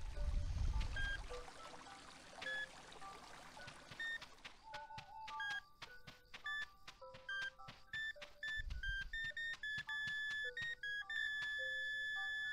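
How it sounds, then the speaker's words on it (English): Repeated electronic beeps from a metal detector in a video game, a rapid string of tonal blips of shifting pitch starting a few seconds in and running steadily to the end over soft background noise. "Could you keep it down with that metal detector?"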